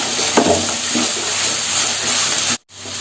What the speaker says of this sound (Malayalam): ഇതെല്ലാം കൂടെ കൂടി മിക്സ് ചെയ്തതിന് ശേഷം ഫ്ലെയിം ഓഫ് ചെയ്യാം.